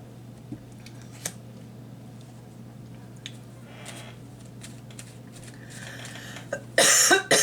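A single harsh cough bursts out near the end after a quiet stretch with faint clicks and a low steady hum.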